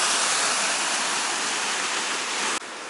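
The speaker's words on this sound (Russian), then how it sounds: "Поток бурной реки выходит из скалы" A fast, turbulent mountain river pouring out of rock at a holiday base in Benoy, Chechnya, heard as a loud, steady, broadband roar of rushing water up close, with no voices.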